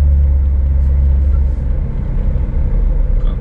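Busy 7:30 morning road traffic in Kansk, Russia: a loud, continuous low rumble of passing cars and heavier vehicles, close and steady with slight swells, no clear gaps between them.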